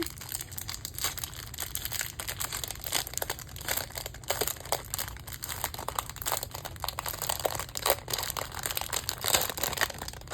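A crinkly plastic package of diamond painting beads being opened and handled up close, with continuous rustling and crackling crinkles over about ten seconds and no talk.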